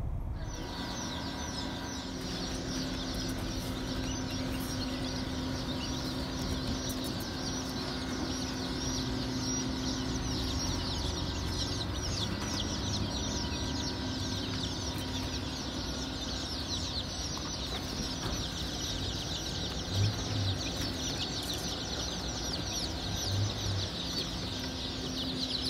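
Baby chicks at a farm store's chick days event, with a dense, steady chorus of high peeping and clucking filling the room over a constant indoor hum, close and continuous with no talking.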